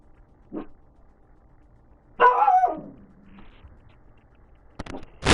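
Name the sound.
dog barking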